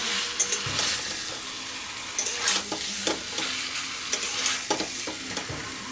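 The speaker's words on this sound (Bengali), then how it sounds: "একটু কষিয়ে নেব মশলাটা, যাতে সব সাথে মিশে যায়।" Spices and pieces of taro sauté in a pan with a continuous sizzle, while a spatula scrapes and knocks against the pan in irregular bursts, close and with no voices.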